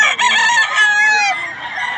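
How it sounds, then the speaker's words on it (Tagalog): Roosters crowing loudly and close among a large flock of fowl, overlapping drawn-out calls with clucking chickens underneath. "Napakarami na naman manok dito sa Bukawi mga idol."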